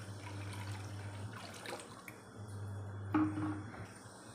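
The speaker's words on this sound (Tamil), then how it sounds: "கொஞ்சம் ஜலம் விட்டுக்கிறேன் வேகிறதுக்கு" Water poured into a pan of simmering brinjal curry, a short splashing pour rising near the end over a steady low hum from the stove, with no talk.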